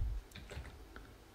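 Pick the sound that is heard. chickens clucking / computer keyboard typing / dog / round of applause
computer keyboard typing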